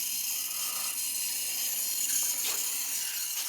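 Water rushes steadily through boiler piping as the system refills, a constant hiss of flow close by with faint mechanical ticks.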